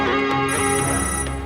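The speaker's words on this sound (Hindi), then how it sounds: "दीनानाथ का फोन है, बात कर, घबराती काय को?" A phone ringtone plays loud and steady, a bright electronic melody with sustained tones, sounding alone without speech over it.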